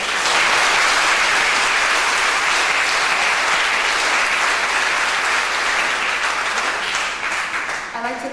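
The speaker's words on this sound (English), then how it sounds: "so please give him a round of applause." Audience at a Model United Nations conference closing ceremony applauds the webmaster: dense, sustained clapping from a large crowd, steady and loud throughout, thinning slightly near the end.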